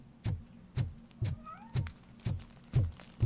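A cat meows repeatedly in the game Robocop Rogue City, with short rising cries mixed into a steady rhythm of heavy thudding footsteps about every half second, all close and fairly loud.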